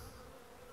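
A close, dense buzzing of honeybees on comb, uncapping cells, droning continuously at low level, with no voices.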